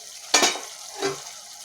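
Chicken red curry cooks in a pan with two short sizzling bursts as the mixture is stirred, a loud hiss followed by a softer second one, quiet in between.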